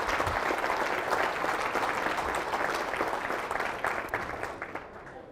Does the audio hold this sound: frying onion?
no